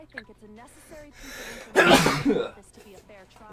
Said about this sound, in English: I have sneezed.